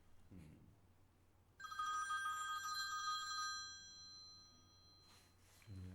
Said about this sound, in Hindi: और ये घंटी बजती जा रही है